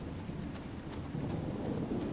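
Thunderstorm in the video game Dragon Age: Inquisition, with steady rain hiss and a low rolling rumble of thunder continuing throughout, fairly loud and unbroken, with no talking.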